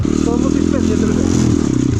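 A motorcycle engine runs close and loud with a steady buzzing drone and slight pitch shifts, while a voice speaks briefly over it.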